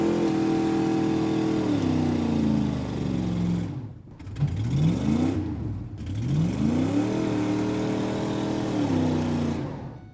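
A brand new blue truck with new tires strains while towing, its engine revving up and down in long sweeping surges with brief dips between, loud and close with no voices.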